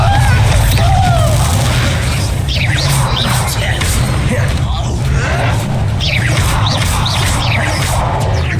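Bombarda blasting spell going off in Hogwarts Legacy during a fight, a loud, continuous rumbling boom with crashing debris and swishing spell effects, mixed with a background voice and game music.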